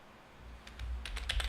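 Computer keys clatter in a quick, faint burst of clicks that grows denser toward the end, close by with a low background hum.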